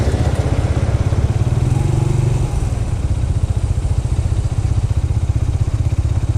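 A Yamaha YBR 125 commuter motorcycle runs close by with a steady, throbbing single-cylinder drone as it pulls away, loud and continuous for several seconds.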